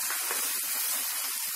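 Tomato puree hits hot oil in a pan of onion paste for chhole masala, giving a steady, close, bright hissing sizzle that runs through the whole short moment with no voices.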